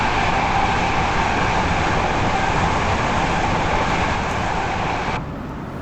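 Class 325 electric train running in Train Simulator 2021, heard from a bogie-level camera: a loud, dense, continuous rumbling roar of wheels and motors that drops away sharply near the end.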